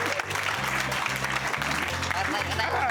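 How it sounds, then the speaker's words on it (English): A comedy panel show's studio audience applauds continuously while steel drums play a low, stepping melody underneath, the clapping a steady broadband wash that never lets up. "Give a round of applause"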